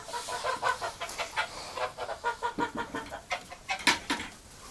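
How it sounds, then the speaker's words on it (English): Repeated short quacking and clucking calls from a few nearby ducks in winter, irregular and overlapping, with no talking. "Oh, ducks."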